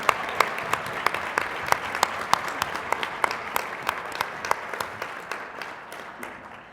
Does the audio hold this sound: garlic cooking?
no